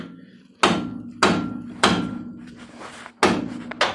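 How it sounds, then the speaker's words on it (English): A heavy hammer strikes a front suspension part on a 1978 Oldsmobile Cutlass G-body during coil spring and shock replacement, five sharp metallic blows with ringing decay, evenly spaced, close and loud. "it's a little bigger hammer than I probably should be using"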